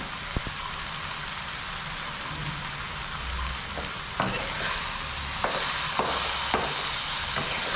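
Brinjal bharit sautéing with homemade masala and salt, a steady close frying hiss with occasional sharp spoon scrapes and clacks against the pan in the second half, no voices.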